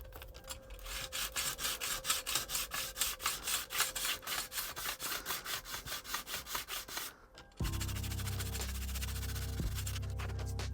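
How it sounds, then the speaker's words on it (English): Coarse 80 grit sandpaper is rubbed back and forth over a plastic hard drive enclosure in quick, rhythmic strokes, close and crisp. It stops abruptly and gives way to a steady low hum. "I'm only using the 80 grit to take the bulk off."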